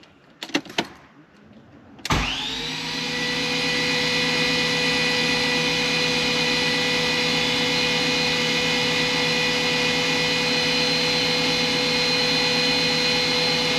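A BMW E46 328i with a turbocharged inline-six cranks on the starter for its first start after reassembly: a few short clicks and bursts, then a loud, steady whirring crank with a sustained mechanical drone that holds evenly for over ten seconds.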